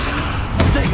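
A Confringo fire spell cast in Hogwarts Legacy lands as a sudden burst partway through, over steady low game noise and a speaking voice.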